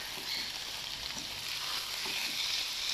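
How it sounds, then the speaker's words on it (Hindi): Chicken pieces for Shimla chicken sizzle and fry in a pan, a steady close hiss with occasional soft stirring sounds, no talking. "अब इस पॉइंट पे हम ऐड कर देंगे चिकन और इसकी भुनाई कर लेंगे।"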